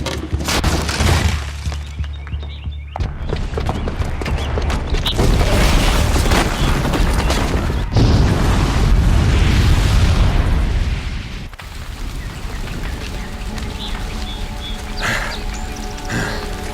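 A booby-trapped bomb explodes in Horizon Zero Dawn, loud sustained roaring blasts with shattering and crumbling debris, several heavy impacts rolling on for many seconds before settling into rumbling aftermath.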